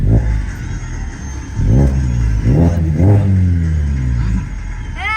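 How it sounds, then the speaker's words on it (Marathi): A car engine revs up in several rising bursts, loud and close, with a steady rumble between them and no talking. "गाडीचा आवाज कसा लागते बघ"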